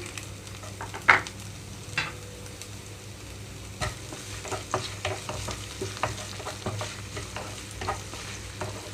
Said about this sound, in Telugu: ఉల్లిపాయలు కొంచెం వేగనిస్తున్నాను